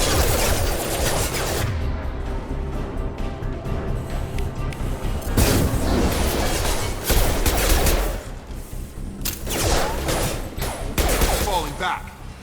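Sustained gunfire in a Mass Effect 2 firefight, loud bursts of rapid shots and heavy impacts rolling almost without pause, with brief lulls between volleys.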